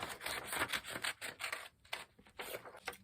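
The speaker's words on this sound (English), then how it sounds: "And then I'm just going to cut it out." Scissors snip a rough circle out of paper in a run of close, quiet rasping cuts with short gaps between strokes, and nobody speaks.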